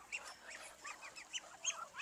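Several faint, hoarse quacks come in uneven bursts from a sick, infected duck, fairly quiet against a hushed background.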